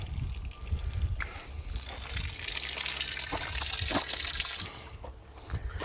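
Water flushes through a newly laid garden drip irrigation line, a steady close rushing gush that runs for several seconds before easing off, with no talk.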